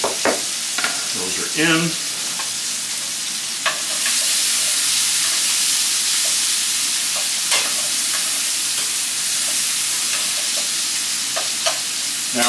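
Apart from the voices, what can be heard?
onions frying and sizzling in a pan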